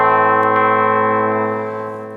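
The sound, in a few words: clean electric guitar tone through ENGL preamp, bright switch off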